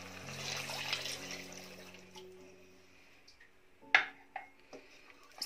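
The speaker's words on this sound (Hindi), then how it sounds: "तो ये और ये मैंने पानी डाल दिया है।" Water trickles into sizzling fried masala in a pan for a kofta gravy, a soft pouring hiss followed by a few sharp clinks and taps of a utensil near the end.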